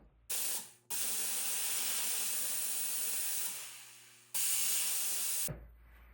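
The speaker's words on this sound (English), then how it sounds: "We're gonna steam the piece now." A steam cleaner blasts a jewelry bar pendant made from a wedding ring, giving two loud, steady hissing bursts separated by a short gap, with a brief puff at the start and a quiet pause near the end.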